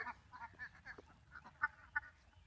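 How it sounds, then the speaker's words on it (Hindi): Ducks in a netted enclosure on a duck farm, a flock quacking in quick, overlapping nasal calls at a moderate distance, fairly faint and steady, with no talking. "ये मेरा बतख है।"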